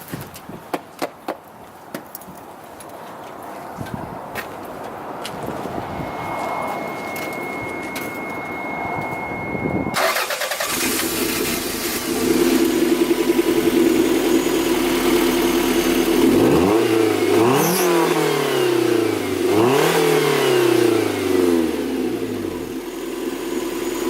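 A Toyota MR2 engine cranks over and catches at about ten seconds, then settles into a loud, close idle with two rising-and-falling revs near the end.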